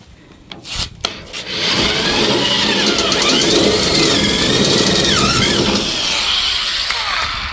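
A small drill bit bores into a vehicle body panel during panel alignment work, giving a few short starts followed by a steady, close whirring grind that runs continuously for several seconds with no talk.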